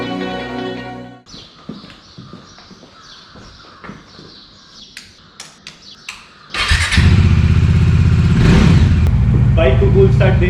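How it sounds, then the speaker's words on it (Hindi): Motorcycle engine on a long-distance Mumbai to Meghalaya road trip, starting up after a stretch of faint clicks and ticks, then running loud and close with a rough, steady roar and revving for several seconds. "बाइक को फुल स्टार्ट दे दिया है."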